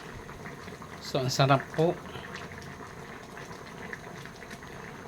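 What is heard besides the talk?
chicken tinola with coconut milk boiling in pot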